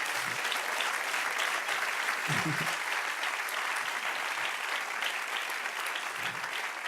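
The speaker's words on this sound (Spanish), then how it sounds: "Dele aplauso, aleluya." Steady, loud applause from a large church congregation, continuous clapping throughout with no pause.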